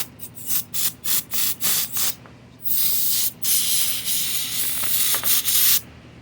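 Carb cleaner sprays in short hissing bursts into the carburetor of an Echo PB-250LN blower, about eight quick puffs followed by a longer sustained spray, close and loud with no talk.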